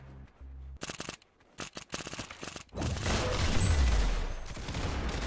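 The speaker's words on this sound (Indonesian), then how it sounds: "Kenapa senjatanya macam staple gun? Ya ilah, satu kali siap dia tembak aku." Rapid bursts of gunfire from a staple-gun-like weapon in the Roblox video game, cracking in short clustered volleys and then giving way to a dense, sustained rattle of noisy game sound.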